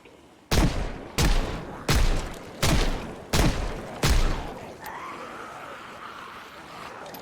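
A player's gun firing in a video game: six loud, evenly spaced shots about half a second apart, each with a short echoing tail, followed by fading ambient noise and no talk.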